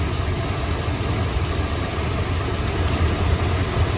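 A 1972 Chrysler Imperial LeBaron V8 idling rough with a misfire, a loud, close, low rumble with an uneven, shaking pulse and no voices.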